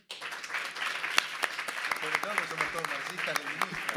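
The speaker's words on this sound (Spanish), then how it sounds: "Así que los voy a ir nombrando para que ustedes los aplaudan." Applause from the audience at a panel debate as the guests are introduced one by one, a steady wash of clapping running throughout with a voice occasionally rising over it.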